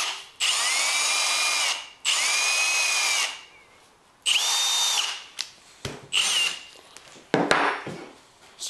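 An electric drill fitted to an ice auger whines in several bursts: two long runs, a third, then shorter stop-start pulses, loud and close with no talk.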